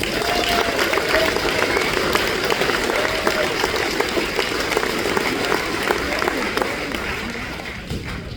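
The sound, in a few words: audience applause at drivers meeting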